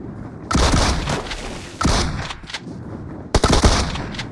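Close gunfire in PUBG Mobile crackles in three loud bursts of rapid shots with booming hits, separated by brief lulls and a faint background of battle noise.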